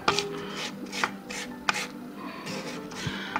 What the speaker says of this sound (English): take your spatula and you want to scrape down the sides of the bowl